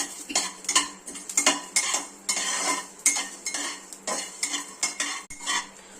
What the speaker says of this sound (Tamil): எண்ணெய் ஊத்தாம தான் அதை வறுக்கணும்.